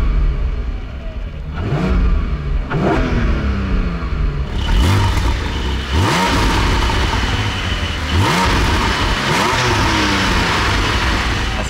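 Porsche 718 Boxster GTS with a 4.0-litre naturally aspirated flat-six, sport exhaust valves closed, revving repeatedly in sharp rising blips, loud and close, with the engine note building between throttle stabs.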